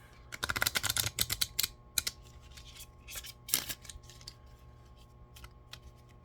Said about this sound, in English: So we're gonna shuffle the cards that we have left.